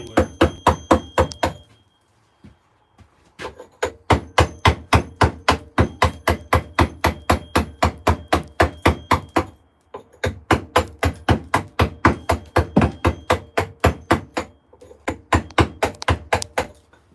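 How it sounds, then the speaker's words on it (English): Hammer striking a chisel while carving stone, a fast, steady run of sharp, loud metallic taps close by, broken by brief pauses, with no talking. "To hold that chisel in the right angle to stop it just skating across and not getting anywhere."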